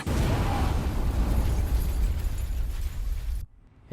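A massive meteorite crash explosion booms with a roaring, crashing blast of debris that rumbles on for several seconds, then cuts abruptly to near silence.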